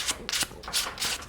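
Sandpaper rubbed by hand over a turned walnut pawn, following the grain: a run of short, close scratchy strokes in quick uneven rhythm, fairly faint, with no talking.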